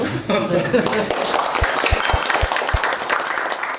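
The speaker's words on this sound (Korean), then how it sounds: "셀프 격려 박수 한번 하십시오" An audience of prosecutors at a justice ministry gathering breaks into scattered applause under a man's ongoing speech, with a few low thuds that sound like a microphone being knocked.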